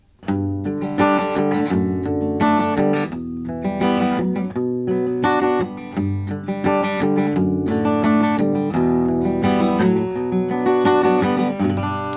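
A simplified acoustic guitar arrangement of a song is strummed and picked steadily, the chords ringing close and full with no voice over them.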